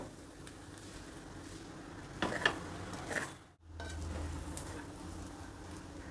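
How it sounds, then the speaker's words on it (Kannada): Rice for palak pulav fries in a pan on a low flame, giving a soft continuous sizzle with a few scraping stirs near the middle and a brief dip before the frying hiss resumes. "ಸಿಮ್ಮಲ್ಲೇ ಇಟ್ಕೊಂಡು ಆಗಾಗ ಮಧ್ಯದಲ್ಲಿ ಒಂದು ಸಲ ಈ ರೀತಿ ಕೈ ಆಡಿಸ್ಕೊಂಡು ಬಿಸಿ ಮಾಡಬೇಕು"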